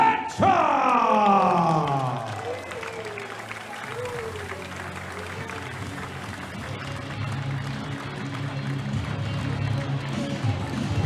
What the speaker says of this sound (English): Please give a round of applause and welcome the Titan, Alex KURDECHA!